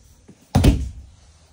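A single solid thunk as a door in a Class C motorhome swings shut, close and loud against a quiet interior.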